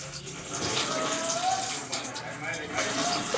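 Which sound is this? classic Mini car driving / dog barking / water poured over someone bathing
water poured over someone bathing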